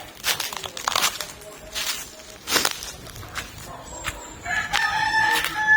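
Rooster crowing on a backyard chicken farm, a couple of fairly close crows near the end, with footsteps, rustling and scattered clucks around them.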